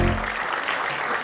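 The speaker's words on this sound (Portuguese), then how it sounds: "Um aplauso para ela" A television studio audience applauds steadily, a dense wash of clapping that starts just after a low voice cuts off and then continues evenly.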